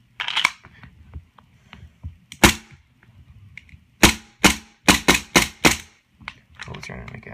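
Sharp gas blowback shots from a KJW M9A1 gas airsoft pistol, a single crack followed by a quick string of five loud, close reports, with faint handling noise and brief talk between them.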